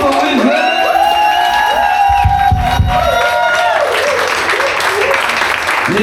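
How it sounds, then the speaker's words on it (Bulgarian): A concert crowd at a live rock show in Tangra roars with loud applause, cheers and high whoops, a dense, sustained wall of noise with shouting voices rising and falling across the crowd. "Искам много аплодисменти да чуем за нашата група преди нас."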